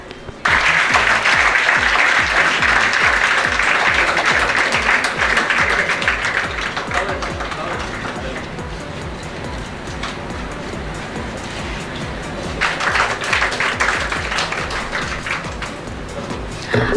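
An audience at a school awards ceremony for diligence and regularity applauds honored students, with loud, dense, sustained clapping that eases slightly midway and swells again toward the end.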